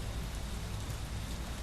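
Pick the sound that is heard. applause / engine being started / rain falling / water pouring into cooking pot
rain falling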